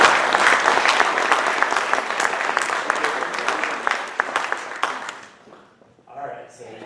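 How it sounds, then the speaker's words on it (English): A room of people at a Rotary club meeting clapping together in a dense, sustained round of applause that slowly tapers off, followed by a quieter stretch with a voice. "let's give him a round of applause"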